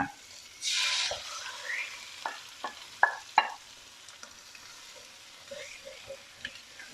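Eggs frying in a pan alongside shrimp for shrimp-fat fried rice, a faint sizzle opened by a brief hiss as the egg goes in, then scattered taps and scrapes of stirring, no talk.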